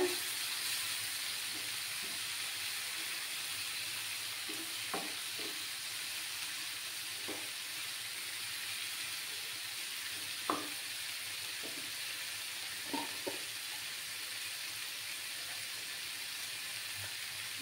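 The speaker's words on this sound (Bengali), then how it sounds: "সামান্য একটু হলুদ গুঁড়ো দিয়ে ভালো করে কষাতে হবে" Coriander and turmeric powder sauté in a pan for a Bengali soyabean curry, making a faint, steady hiss with a scattering of light scraping taps from a spatula spread over a long stretch.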